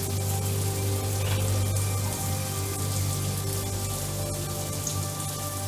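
Cold water from a home shower spraying steadily in a bathroom at 5 a.m., a dense, even hiss of falling water close by, with no voices heard.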